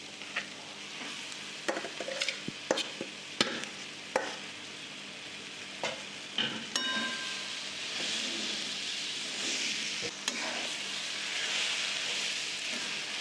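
Mashed roasted eggplant bharit being stirred into fried onion masala in a pan, with a low steady frying sizzle and repeated sharp scraping knocks of a spoon against the pan that come in irregular bursts.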